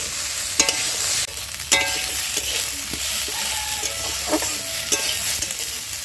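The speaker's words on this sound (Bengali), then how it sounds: "আগে ডাটাগুলো ভেজে নিচ্ছি" Pipul greens stalks frying in a pan, an even, close sizzle with occasional knocks and scrapes from stirring, no one talking.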